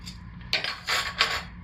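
Tangerine Wow colorant is stirred by hand into cold process soap batter in a container, three quick scraping, clinking strokes of a utensil against the side, close and alone.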